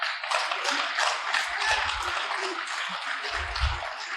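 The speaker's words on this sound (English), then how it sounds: "We have to hold our applause" Audience applause at the 2023 Rome mayoral debate comes as a steady, moderately loud patter of many hands clapping, with a few low thumps mixed in.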